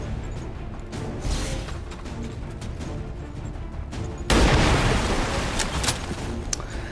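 Rapid bursts of XCOM 2 gunfire, dense and loud, with a heavier burst of shots partway through and continuing to the end; no voices.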